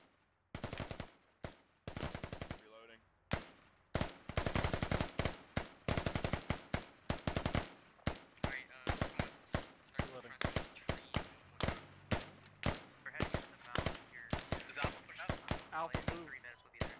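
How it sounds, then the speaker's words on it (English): Bursts of automatic gunfire in a military video game ring out in sharp, loud volleys, some short and some long rapid strings, repeating across the whole stretch with brief gaps between. "Shots going out."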